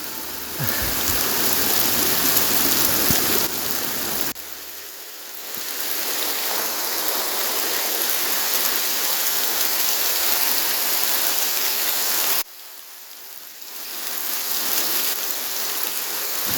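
Steady rain pours down in a dense hiss in a foggy valley in Denizli, Turkey, with a couple of brief drops in level, and no voices.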